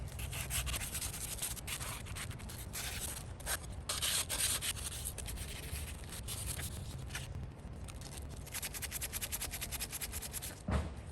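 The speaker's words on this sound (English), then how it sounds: "I'm going to sand all the rough spots down" Continuous abrasive sanding of rough, rusted spots on an 88-year-old Robbins and Meyers Type 1204 industrial fan, a close, steady scratchy rubbing with irregular strokes and brief pauses, alone without speech.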